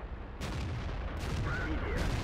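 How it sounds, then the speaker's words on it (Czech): Heavy tank cannon blasts from World of Tanks, two or three booming shots a second or so apart amid engine rumble, with a commentator talking over them. "A dával mu ještě, dal mu ještě ránu."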